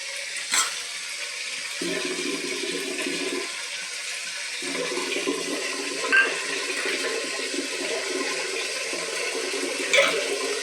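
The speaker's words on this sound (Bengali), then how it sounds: "আমি লঙ্কার বাটিটা ধুয়ে জলটা দিয়ে দিলাম।" Water runs and splashes as a chili bowl is rinsed at a kitchen sink and the water poured into a pan of frying spices and tomatoes for potato dum, a steady close rush with a couple of brief clinks.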